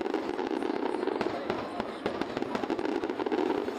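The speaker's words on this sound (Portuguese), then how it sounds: "a queima de fogos. São 15 minutos de fogos." Fireworks burst continuously over Icaraí in Niterói, a dense crackling barrage of many overlapping pops and booms heard from some distance.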